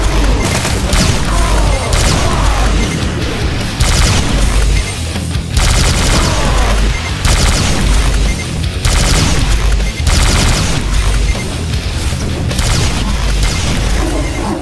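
Loud, relentless weapon fire in Doom Project Brutality on the Refinery level, bursts of booming shots and rapid gunfire filling the mix with only brief gaps.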